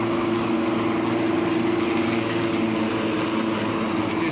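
Small lawn mower engine droning steadily while mowing a yard, a constant close buzzing hum with no pauses and no talk.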